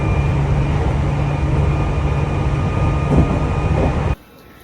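Semi-express commuter train ride in Japan, a steady loud rumble of carriage and rails with a constant low hum and faint whine, continuing evenly for several seconds before cutting off abruptly near the end.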